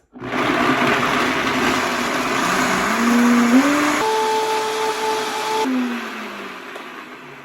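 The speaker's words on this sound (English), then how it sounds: "let's just pray I don't ruin this with the blender. All right, be loud for a few minutes." A small kitchen blender whirs loudly and steadily, its motor pitch rising and shifting as it works, then winding down near the end.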